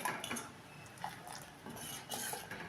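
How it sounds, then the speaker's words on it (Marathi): A metal spoon stirs boiling jaggery tea spiced with homemade masala in a pot, giving faint, scattered clinks and scrapes over a low simmering background. "असं एकसारखा आपण ह्या चमच्यानं चहा हलवत राहायचा आहे"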